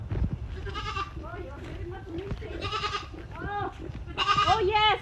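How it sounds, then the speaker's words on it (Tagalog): A goat bleats repeatedly at close range, several loud wavering cries spaced through the clip, with a louder double bleat near the end and low background noise between calls. "So this is the goat that I'm going to slaughter."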